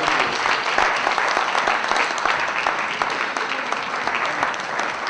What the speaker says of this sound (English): A round of applause for Barrister Sergius Ogun.